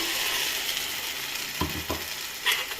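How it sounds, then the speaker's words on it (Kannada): Ground masala paste, added to cooked-down tomatoes for a mushroom gravy, fries in a pan with a steady hiss, broken by a few scraping stirs of a spoon. "ಈಗ ಚೆನ್ನಾಗಿ ಹುರ್ಕೋಬೇಕು, ಫ್ರೈ ಮಾಡ್ಕೋಬೇಕು."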